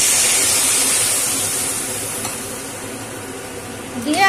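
Tamarind leaf juice hitting a hot pan of fried curry leaves for a chutney: a loud, steady hissing sizzle that gradually eases, with a brief scraping stir near the end.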